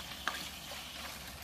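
Food sizzling and frying in a hot wok while camping at Bala Lake, a soft continuous crackle with one sharp pop near the start, no talking.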